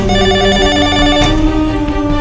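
A telephone rings continuously in a Telugu action film scene, a bright repeating bell tone heard alone and close.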